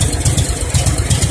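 A generator engine running on biogas from kitchen scraps chugs loudly and close by in a steady, pulsing idle rhythm, with no talk over it.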